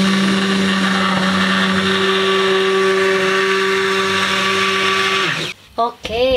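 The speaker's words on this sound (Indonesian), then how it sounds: "Next step-nya saya mau blender." A blender whirs loudly and steadily, pureeing cooked ingredients into cream soup, its motor pitch shifting slightly before it cuts off near the end, followed by a few brief clinks.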